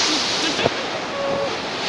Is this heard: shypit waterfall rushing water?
yes